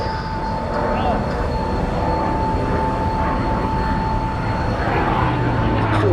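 A Grumman Bearcat piston fighter flies past at the Duxford airshow, a loud, steady, broadband engine roar that holds for the whole stretch without fading.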